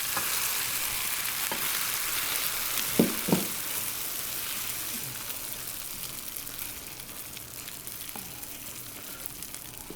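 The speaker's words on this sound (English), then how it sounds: "You can see it sizzling around the end of it." Holiday dressing sizzling in hot oil in a pan, a bright continuous hiss of frying with a couple of short clinks or scrapes early on, steady and close throughout.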